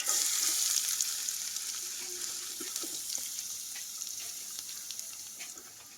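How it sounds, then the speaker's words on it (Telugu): Fish frying in a pan with onions and green chillies, a close, steady hiss and crackle of hot oil that slowly fades over a few seconds, with no talking. "ఉల్లిపాయలు, పచ్చిమిరకాయలు వేసుకుందాం."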